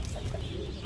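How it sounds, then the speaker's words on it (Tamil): Pigeons in a room full of birds at Thanjavur, a brief soft burble of cooing and fluttering, close and fairly quiet. "ஃப்ரெண்ட்ஸ், இங்கே பாருங்கள், புறா"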